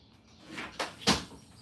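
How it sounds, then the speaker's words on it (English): Door opened and closed in a home where dogs bark, giving a faint creak, then two sharp knocks and thumps close by in a quiet room, with no talk. "he's going to keep opening and closing the door"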